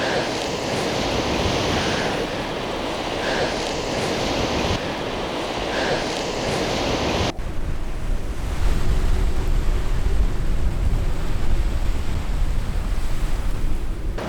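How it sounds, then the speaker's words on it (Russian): Waves churn on a lake in strong, freezing winter wind in Texas, a loud, steady roar of surf and gusting wind buffeting the microphone throughout, with no voices. "Я никогда не видел таких волн на озере."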